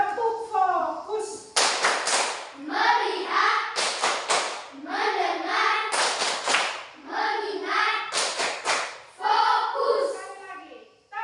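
A group of children clap the tepuk fokus classroom clapping pattern, sharp bursts of claps in a rhythmic sequence alternating with children chanting the words aloud together, loud and close.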